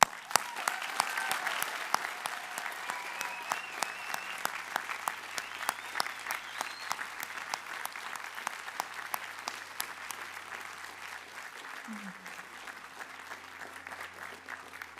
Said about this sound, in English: You deserve a huge round of applause.